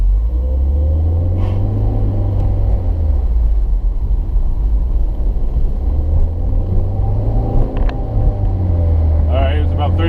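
A 2016 Subaru WRX with a CVT accelerates from a stop, its engine rumbling low and steady near the cabin with slowly rising tone, while someone talks over it.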